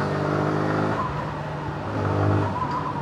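Suzuki Gixxer FI motorcycle engine droning under throttle, a steady low humming rumble with a slight rise in revs toward the end, close and continuous, no speech.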